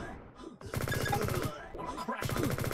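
Rapid bursts of gunfire from the open-source online FPS game Liblast, two long volleys of fast repeated shots separated by a brief lull, loud and close with speech mixed in.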